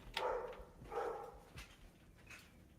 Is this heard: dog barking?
yes